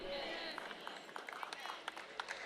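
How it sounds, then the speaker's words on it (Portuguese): Applause from a congregation during a sermon: a soft, scattered, fairly distant patter of clapping, heard faintly under and around continuous speech. "você não está aplaudindo tão alto quanto aplaudiu para outras coisas"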